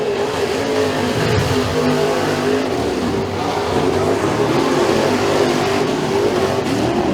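Dirt-track race cars roaring through a heat at Freedom Motorsports Park, a loud continuous blend of several engines revving and accelerating down the backstretch, heard alone without talk.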